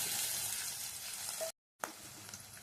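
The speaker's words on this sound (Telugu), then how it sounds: "ఆనియన్స్ బాగా వేయించుకోండి." Onions and green chillies sizzle in a pan with browned garlic, a close, continuous hiss of frying that breaks off for a moment of silence, then resumes.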